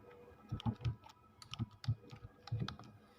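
A computer keyboard clicks in short uneven bursts as a channel name is typed, with close, quiet keystrokes separated by brief pauses.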